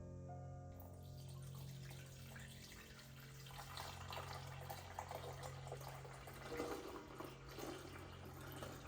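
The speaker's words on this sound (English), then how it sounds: "So as I fill the water cup" Water pours steadily into the water tank of a Capresso ST300 coffee maker, a continuous soft rushing fill with a low hum underneath and no talking.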